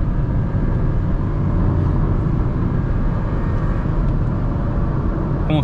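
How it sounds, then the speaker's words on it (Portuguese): A Volkswagen Polo TSI is driven at full throttle, its engine droning steadily and loudly inside the cabin with heavy road and wind roar throughout, no talking heard. "Eu pisei tudo, galera. Pisei tudo nesse carro."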